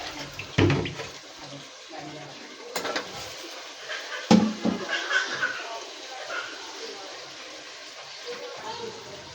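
Potatoes washed under running water in a home kitchen, the stream splashing unevenly with a few louder bumps and knocks, heard close up.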